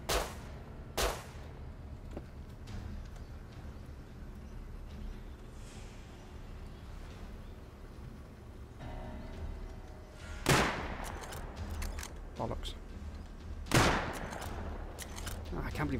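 Gunfire in the survival video game Rust: a few sharp, loud shots near the start and two heavier bursts later, each ringing out over a steady low background rumble.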